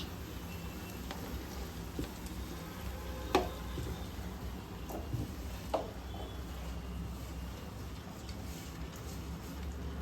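Curry leaves fry in a pan with a quiet, continuous crackling sizzle, broken by a few sharper pops and spatters, heard close up without speech.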